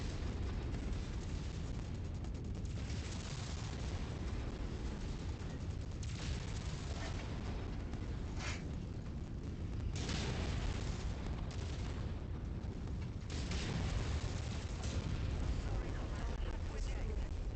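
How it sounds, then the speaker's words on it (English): In the MechWarrior 5 video game, a mech's AC-2 burst autocannon and AC-10 exchange fire with explosions, a dense continuous rumble of gunfire and booms over a battle soundscape. "That's him shooting at me. With an AC-2 burst fire, I answer back with a 10."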